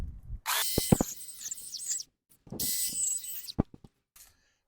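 A small saw works through the branches of a felled tree in the forest in two loud, steady bursts, each about one and a half seconds long, separated by brief pauses and followed by a few knocks.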